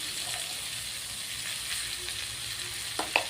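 Soft continuous sizzle of potatoes and long beans frying in a pan with green chili paste, fairly quiet and even, with a couple of light utensil clinks near the end.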